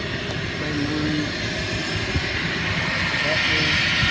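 An aircraft engine runs up on the airport ramp near a Cessna 172 Skyhawk, a steady broad roar and drone holding constant in the background while someone talks over it.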